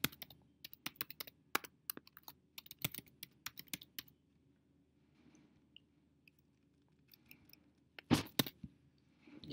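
Light clicking of keys on a computer keyboard while entering details into an accounting software signup page, quick bursts of taps with pauses between, close and soft.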